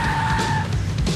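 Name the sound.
car driving off with skidding tires, video game Max Payne 3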